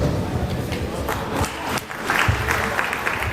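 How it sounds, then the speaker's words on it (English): Audience applause at a Southeast youth leadership development and value reorientation programme: a dense, steady burst of clapping from a crowd, filling the whole moment with scattered cheering mixed in. "So, let's give a round of applause."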